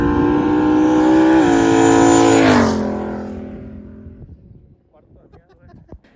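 A tuned car engine revs hard with a rising, strained note, climbs to a sharp peak, then drops away and fades toward quiet, with scattered background noise at the end.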